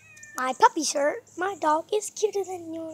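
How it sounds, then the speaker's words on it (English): A pet cat meows repeatedly in the background of a home morning vlog, its drawn-out, tonal calls coming in several bursts while a person talks over them. "If you hear meowing in the background, that's just my cat."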